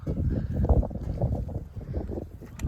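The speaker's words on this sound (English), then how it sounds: "Wind might be blowing a bit." Wind gusting across an open pasture field where Charolais cross cows are calving, steady low rumbling buffet on the microphone throughout, loud and close.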